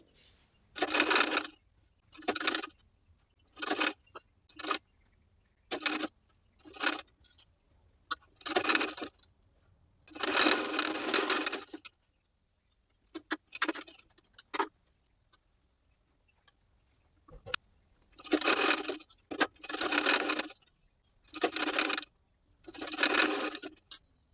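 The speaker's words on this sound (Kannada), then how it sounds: "ಈಗ ಬ್ಲೌಸ್ಗೆ ಈಗ ಸ್ಲೀವ್ಸ್ ಹಚ್ಚಿ ಸ್ಟಿಚ್ ಮಾಡ್ಕೊಳ್ಳೋಣ." A sewing machine stitches sleeves onto a simple blouse, running in repeated short bursts of about a second with brief pauses, a longer run near the middle and a quiet gap before the bursts resume.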